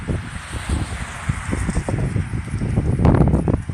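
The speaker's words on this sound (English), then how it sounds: "Lots of wind out here. Super windy today." Steady wind buffets the microphone outdoors, a continuous rushing roar with gusts that swell louder toward the end.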